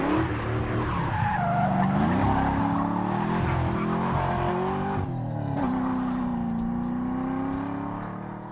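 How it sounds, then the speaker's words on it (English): Car tires squeal loudly and continuously through a moderate first-gear burnout, over engine revs that rise and fall. The squeal holds for several seconds and tapers off at the end. "I did a first gear medium burnout, not real aggressive"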